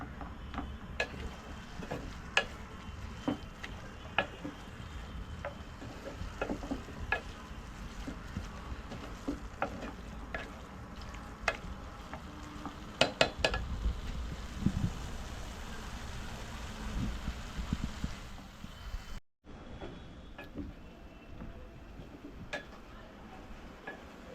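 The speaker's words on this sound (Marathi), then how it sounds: "व्यवस्थितपणे ढवळून घेते" Carrot halwa with added milk being stirred and sautéed in a pan, giving a steady run of soft scraping and light clicking from the spoon against the pan, close and fairly quiet, with no voices.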